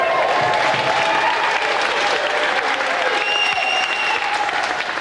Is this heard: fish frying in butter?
no